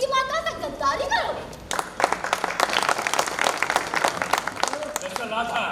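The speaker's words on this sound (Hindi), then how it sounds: "ताली करो।" A crowd applauds during a Sindhi stage drama at an arts council hall in Larkana, with dense clapping swelling in after a performer's voice and continuing under scattered shouts.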